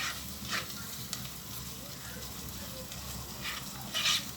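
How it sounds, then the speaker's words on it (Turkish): Tomato paste frying with sautéed onion and garlic in a pan, a steady soft sizzle with a few brief scraping stirs, close and moderately quiet throughout. "Şimdi hemen içerisine domates salçamızı koyuyoruz. Ve güzelce kokusu çıkana kadar kavuruyoruz."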